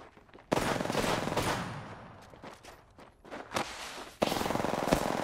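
Bursts of automatic gunfire in a video game 1v1 match: two loud sustained volleys with shorter shots between, close and punchy, with no talk.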